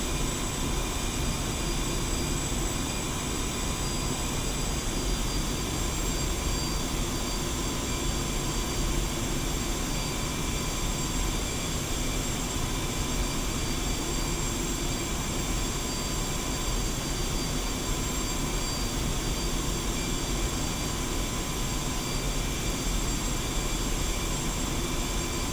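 A Su-25T Frogfoot jet taxiing in the DCS flight simulator gives off a steady, unbroken engine roar with a high whine on top, holding the same level throughout with no voices.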